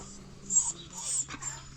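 A dog tied up at home in a Kenyan village gives faint wheezing breaths and soft whimpers in short bursts, quiet and close, with no talking.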